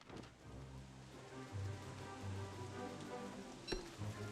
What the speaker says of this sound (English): so it's constantly raining